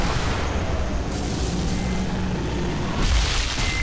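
Deep booming rifle shots from the sniper shooter game Sniper Elite V2, a sustained low rumble with a heavier blast near the end, loud and with no talking.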